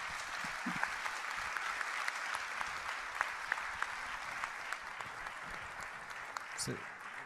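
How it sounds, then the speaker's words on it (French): Sustained audience applause at an event on women seeking justice in the DR Congo: steady, even clapping throughout, moderately distant, with a few sharper claps standing out. "il faut les applaudir puisqu'elles sont formidables"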